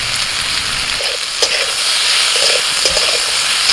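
Potato frying with chopped onion, slit green chili, chopped tomato and spices in a pan, a steady close sizzle with occasional louder stirring scrapes, no voices.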